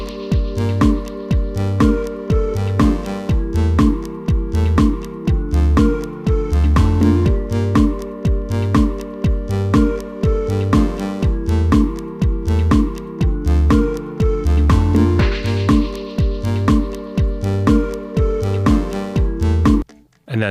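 Sample-built electronic music keeps a steady looping groove of punchy drums and percussion under sustained synth tones, with a breathy flute-like sample rising briefly near the middle, loud and continuous throughout.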